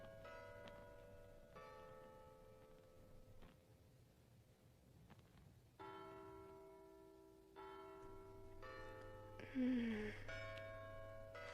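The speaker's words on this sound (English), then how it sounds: "Margot, can you hear the church bells?" Church bells ring faintly at night, their long sustained tones overlapping and fading like distant chimes, with quiet ambient sounds in between.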